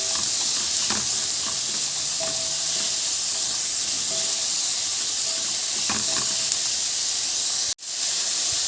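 Colored bell peppers sauté in a hot pan with a constant loud, close sizzle that runs unbroken throughout, ending with a brief clank.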